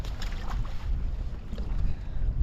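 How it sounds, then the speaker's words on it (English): Strong south wind gusting over open water near Seattle on a stormy day, a steady loud rumbling roar with constant buffeting against the microphone throughout. "Today the wind is very strong and it's coming from the south"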